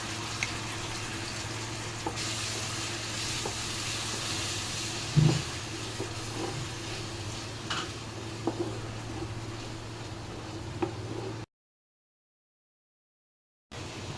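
Blended coriander leaf paste cooking in a pan with nigella seeds, a low, steady hiss and gentle bubbling with a few faint clicks, briefly cutting out near the end.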